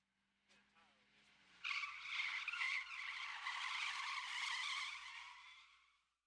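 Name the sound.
car skidding with e-brake pulled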